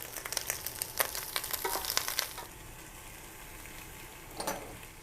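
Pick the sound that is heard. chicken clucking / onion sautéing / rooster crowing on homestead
onion sautéing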